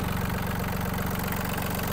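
A Yanmar F-210 Japanese mini tractor's engine idles close by, a loud, steady low chugging with an even, rapid rhythm that holds throughout.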